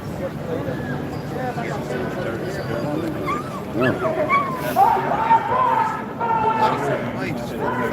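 A large puppy barks and whimpers in short yips partway through, close by, amid a crowd's background chatter and people talking.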